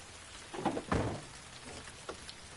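Steady rain patter in the video game Heavy Rain, a soft continuous wash with a couple of louder thumps near the start and no talking.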